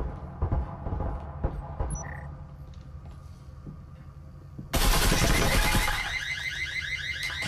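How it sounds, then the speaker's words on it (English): In the VR shooter Breachers VR, a burglar alarm suddenly blares loud and continuous, cutting in after scattered gunfire and game noises and ringing on to the end. "Burglar alarm."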